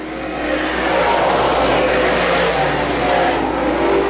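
DIRTcar 358 modified race cars roar around a dirt track in a steady, loud engine drone that swells as the pack passes, with no talk over it.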